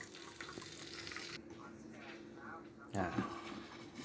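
Sun-dried beef frying in oil in a pan, a steady mid-level sizzle that runs throughout, briefly louder near the end, with a voice talking over it.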